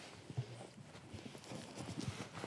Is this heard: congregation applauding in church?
no